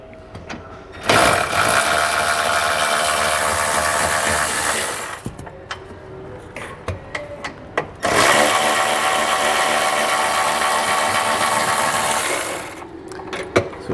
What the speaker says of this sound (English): We're just going to take a 15mm socket and remove those both